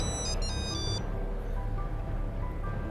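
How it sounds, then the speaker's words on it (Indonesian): An electronic phone ringtone sounds in quick repeated chirps for about a second, then stops, leaving a steady low background hum. "Pas gue ngobrol sama Ray, tiba-tiba telepon itu bunyi lagi."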